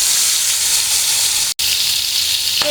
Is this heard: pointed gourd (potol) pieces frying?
yes